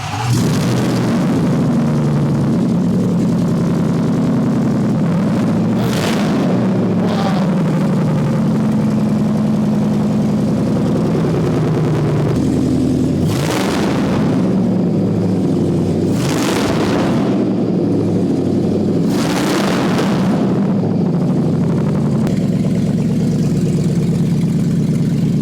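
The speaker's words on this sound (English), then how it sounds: "Engine started up, first time straight away, no problems whatsoever." A rebuilt Range Rover SVR engine runs loud and steady right after its first start, with a continuous close-up idle broken by several sharp bursts of revving.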